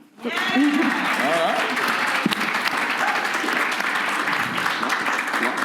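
A crowd bursts into sustained, loud applause that continues steadily, with a voice briefly audible at the start.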